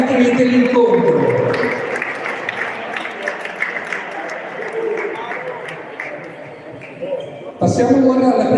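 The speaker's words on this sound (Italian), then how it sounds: "Un grande applauso agli arbitri dell'incontro." A crowd gives sustained applause to the match referees at the Coppa Triveneto 2023 award ceremony. Dense clapping fills several seconds, and a voice speaks over a loudspeaker before and after it.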